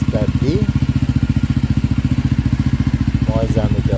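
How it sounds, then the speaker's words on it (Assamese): A motorcycle engine idles close by with a steady, rapid, even thumping pulse throughout, and a person speaks briefly over it at the start and near the end. "bike start the"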